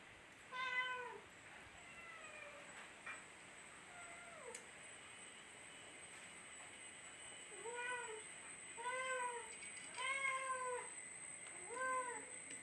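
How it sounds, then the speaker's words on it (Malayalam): A house cat meows loudly and repeatedly, cries arriving in drawn-out bursts with short gaps, several clustered together near the end, over a faint background hum. "എൻ്റെ പൂച്ച ഭയങ്കര കരച്ചിൽ ബഹളം കൊടുക്കാനിട്ടാണ്"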